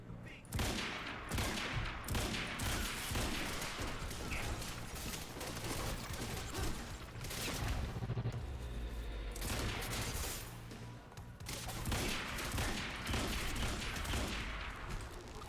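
Gunfire in the video game Quantum Break, rapid bursts of shots and fusillades that pause and resume across the stretch, loud and close, with a player's voice occasionally over the combat.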